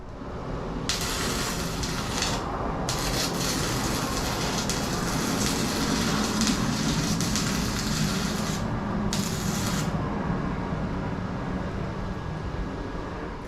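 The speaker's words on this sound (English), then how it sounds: "you can weld on painted and dirty material with a stick welder" A small low-cost stick welder, also usable as a hot stapler, arc-welds painted, dirty metal with a loud, steady crackling hiss broken by several sharper bursts. No one speaks.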